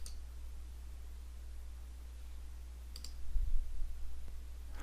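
A computer mouse gives a few sharp, isolated clicks at irregular intervals while a user works in Civil 3D software, each click close and quiet above a low steady hum, with no speech.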